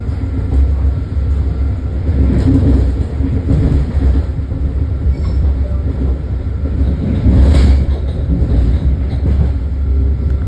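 Steady low rumble heard aboard a nearly empty commuter train in motion, with rhythmic rattling and occasional swells of noise, no voices.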